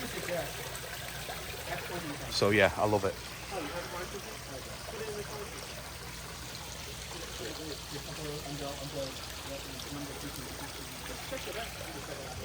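Water bubbling and trickling from a filter return into a 5000-gallon koi pond in Virginia, a soft continuous splashing heard up close under brief outdoor talk.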